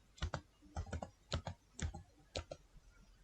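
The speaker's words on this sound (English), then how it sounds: "Now type in search bar Google." A computer keyboard is typed on in short bursts of crisp, quiet key clicks, in about five clusters with brief pauses between them.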